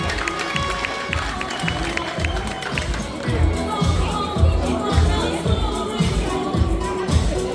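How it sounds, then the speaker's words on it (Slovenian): At a motorcycle club meet, a crowd cheers and claps for a Slovenian rider, with a rough chorus of voices and rhythmic thumping that builds toward the end. "aplavz za Tiljana Bračka iz Slovenije"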